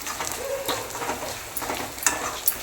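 Chili powder and asafoetida are stirred into hot oil in a pan, with a soft continuous sizzle and scattered scraping clicks from the spoon, close and steady.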